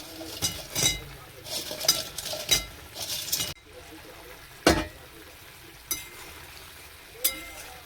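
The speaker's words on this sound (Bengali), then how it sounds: "এবার পকোড়াটা ভাজা ছিল, এবার তুলে দিচ্ছি।" Fried pakoras are lifted out of a pan in a home kitchen, with several clinks and scrapes of a metal utensil against the pan, a few sharp knocks, and faint sizzling between them.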